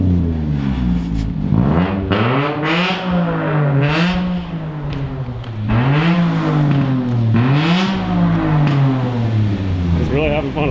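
Car engine on a home shop dyno, revving repeatedly in loud, close surges that climb and drop back in a steady cycle, filling the room.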